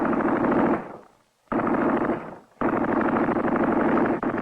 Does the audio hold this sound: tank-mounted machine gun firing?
yes